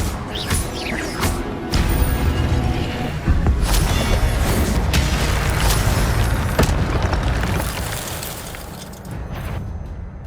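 Incendio fire spell cast in the Hogwarts Legacy game, with heavy rumbling bursts of flame and crashing impacts over a dense, loud combat din, several blasts in a row.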